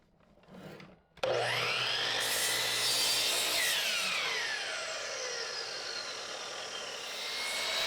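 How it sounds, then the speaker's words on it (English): A miter saw cuts a dado into a 2x4 board, starting after a short quiet lead-in and then running loud and steady with a harsh, sustained blade whine for the rest of the cut. "This is the dado we need to cut on the miter saw."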